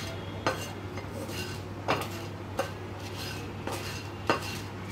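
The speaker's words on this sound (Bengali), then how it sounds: "এগুলোকে ভালোভাবে নেড়ে চেড়ে ভাজা ভাজা করে নেব।" A spoon or spatula strikes and scrapes a metal pan while ingredients for ghugni are stirred and dry-fried, sounding as sharp clinks every second or so over a low steady hum, without any talking.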